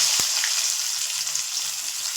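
Potatoes frying in oil left over from frying dried fish, a close, steady sizzling hiss with a brief low thump near the start and no voices.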